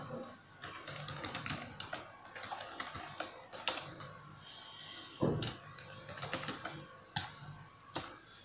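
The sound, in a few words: typing code on a computer keyboard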